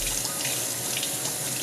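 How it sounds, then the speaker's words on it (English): Tap water runs steadily onto the lace of a wig being rinsed, a continuous close hiss and splash with no breaks and no talking. "I go ahead and move the pan over and run some water on the lace itself."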